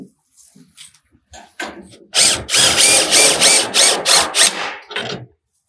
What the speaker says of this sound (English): We use an impact with a 3/4 inch socket